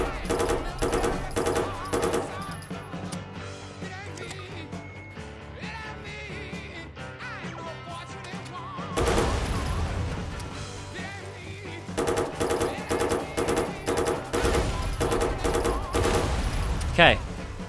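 Sustained automatic gunfire from shooting at enemies in Watch Dogs 2, with dense continuous bursts that pause briefly midway and resume with heavy rattling volleys, along with game music and sound effects.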